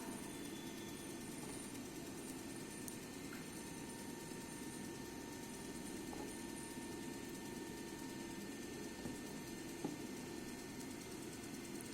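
A DC shunt motor runs steadily while its armature rheostat is adjusted, giving a continuous low hum with a faint tonal whine and no noticeable change over time.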